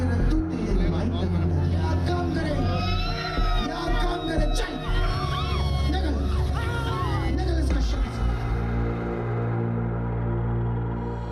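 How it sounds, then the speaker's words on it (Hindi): A crowd in a church prayer tent in Amritsar erupts into screaming and shouting, a dense loud babble of wailing voices and cries that runs continuously before thinning out near the end. "प्रार्थना खत्म होते ही पंडाल में चीख पुकार मच गई।"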